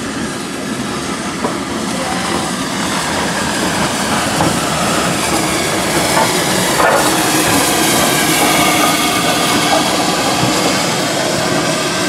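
Heritage train on the Severn Valley Railway heading toward Arley, heard as a steady loud rumble and clatter of moving carriages with hiss, continuous and close throughout.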